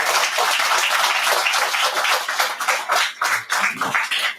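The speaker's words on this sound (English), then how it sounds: "Let's have a round of applause for these individuals." Applause from a graduation ceremony audience honoring office staff, fairly close and loud, a dense round of clapping that thins into scattered individual claps near the end.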